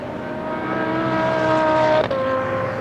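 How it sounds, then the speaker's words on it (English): A Corvette GT race car at the Assen circuit holds a loud, close engine note that climbs steadily, then dips sharply at a brief gear change near the end. "The Corvette even sounds okay"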